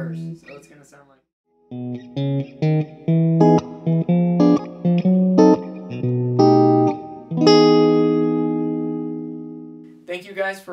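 Guitar plays a riff through effects, a short intro phrase, a pause, then repeated picked notes and a long sustained chord that rings and decays, loud and alone with no talk.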